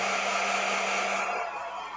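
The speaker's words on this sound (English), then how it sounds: "so everyone can hear the hairdryer on YouTube now" A hair dryer runs steadily at close range, its loud airy whoosh and motor whine holding constant throughout, used while working on painted miniatures, with no one talking.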